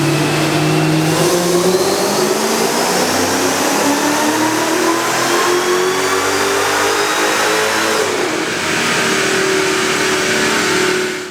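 A Mercedes E55 AMG engine revs hard on a dyno, a loud, sustained pull that rises steadily in pitch, eases briefly, then climbs again with no talk over it.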